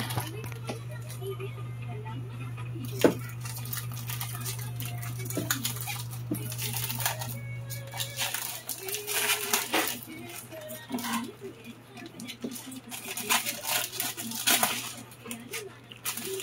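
A Razer Ornata V3 Tenkeyless keyboard is unboxed, with crinkling packaging, soft taps and small plastic clicks over a low hum that stops partway through, while a voice talks throughout.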